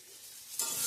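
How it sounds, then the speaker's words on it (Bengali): Ash gourd curry sizzling in a pan, a soft steady frying hiss that grows brighter and louder partway through, with no voices. "এখন চাল কুমড়োর তরকারিটা রান্না করছি বন্ধুরা"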